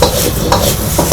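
Minced pork and vegetables stir-fried in a wok for aubergine with minced pork, giving a steady close sizzle with scraping and stirring bursts throughout, no voices.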